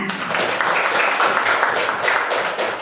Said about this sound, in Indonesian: Tepuk tangan untuk Reza.